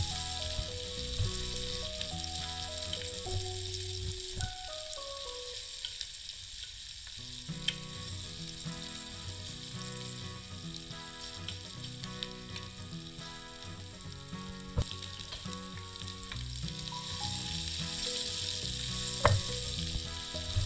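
Turmeric, chili and coriander powder sizzle in hot oil for methi pulao, a continuous close frying hiss with occasional scrapes and stirring clatter and no talking.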